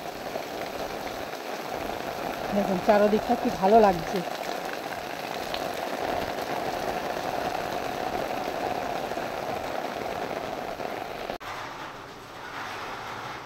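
Steady rain falls outdoors as a continuous soft hiss that runs the whole way through, with someone speaking briefly partway in.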